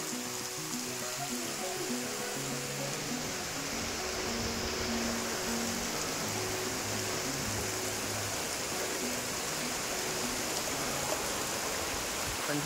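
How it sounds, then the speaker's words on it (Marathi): Heavy rain pours down steadily over a farm field, a dense, even hiss that stays loud throughout, with faint voices underneath. "बघा जोरातच आला पाऊस."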